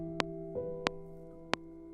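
A sustained, quiet synth tone from the Spitfire Labs software instrument holds steady throughout, overlaid with three sharp, brief clicks spaced about two-thirds of a second apart.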